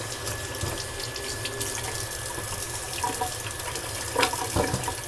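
Bok choy gets rinsed under a running kitchen faucet, a steady close hiss of water with brief splashy surges as the leaves pass through the stream; no one speaks.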